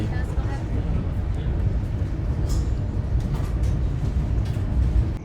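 Joglosemarkerto passenger train pulling into Tanggung station, a steady loud low rumble of rolling wheels and engine filling the scene throughout, with faint station noise above.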